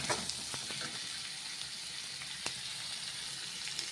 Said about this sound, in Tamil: அந்த தக்காளி போடுவாங்க